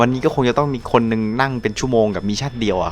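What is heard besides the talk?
None of the usual background noises is heard.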